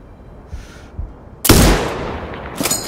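A heavy sniper rifle shot booms close and loud in the shooter game Sniper Ghost Warrior Contracts 2, set in a desert boot camp, followed by a rolling echo and a metallic bolt-action clack.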